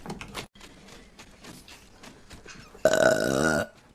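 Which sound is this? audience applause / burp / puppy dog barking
burp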